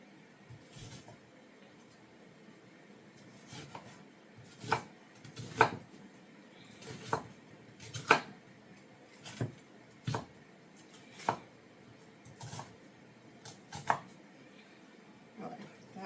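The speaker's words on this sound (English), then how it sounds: "So we're just going to line it up and make some chops across." A knife chopping across an onion on a cutting board: a few scattered, moderately loud chops with irregular pauses between them over a quiet background, with no speech.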